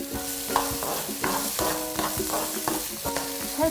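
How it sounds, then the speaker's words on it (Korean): Onion and garlic stir-fry in oil in a pan, with a steady sizzle and the repeated scrape and clatter of a utensil stirring, close and continuous, with no talking. "이렇게 이제 양파와 마늘을 먼저 볶는 것은 맛있는 향을 더 많이 내기 위해서 먼저 볶는데요"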